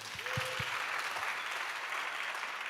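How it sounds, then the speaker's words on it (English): Audience applause at a Teachers for the Planet event at COP28, a steady wash of clapping from a crowd that carries on evenly throughout, with a brief low voice at the start. "Another round of applause, please."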